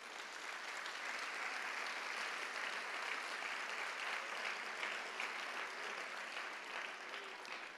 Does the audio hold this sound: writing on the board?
no